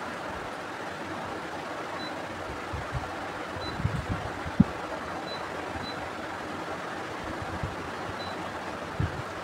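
An air conditioner runs with a steady, even whoosh and hum that fills the room, broken only by a few faint knocks and thumps nearby.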